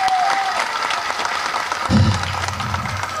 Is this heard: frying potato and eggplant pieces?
no